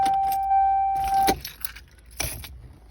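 Car key jangling in the ignition of a Toyota RAV4 as it is turned off, with a faint electronic chime fading out, then two brief clattering bursts of keys, close and fairly quiet.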